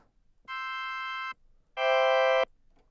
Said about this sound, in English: Here's octave 4